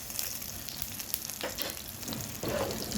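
Dried red chillies, asafoetida and turmeric sizzle in hot oil for a tempering, a steady dense crackle close up that flares slightly louder near the end.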